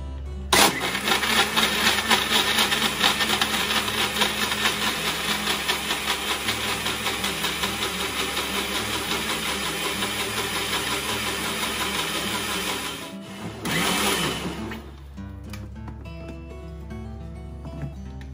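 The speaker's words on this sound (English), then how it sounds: "I'm going to grind them." A blender grinds lychee, lime and mint in a steady, loud motor whir that runs continuously for about thirteen seconds, briefly dips and surges, then winds down and stops near the end, with no speech.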